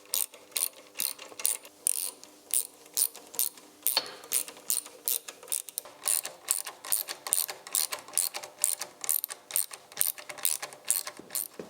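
Ratcheting clicks from a spanner tightening the exhaust clamps on a TVR 3000 M, a steady run of quick close metallic ratchet strokes in repeated bursts, with no talk.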